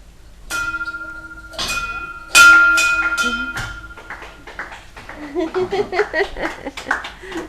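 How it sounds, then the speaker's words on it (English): A hand bell rings three times, each strike leaving a clear metallic ring that fades, followed by people talking and scattered clapping. "going to ring this bell."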